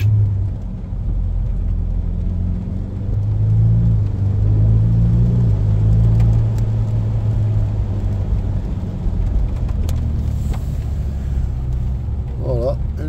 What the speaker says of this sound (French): On sent le moteur, on l'entend